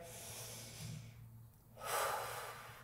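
Deep breaths drawn in and let out during a stretch routine, a soft breathy inhale followed by a longer, louder exhale, close and alone with no talking.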